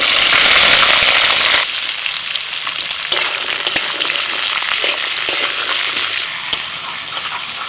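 Pumpkin green stalks and potato pieces drop into hot oil tempered with bay leaf, dried chili and five-spice, setting off a loud, close, steady frying sizzle with scattered crackles and a few stirring clicks.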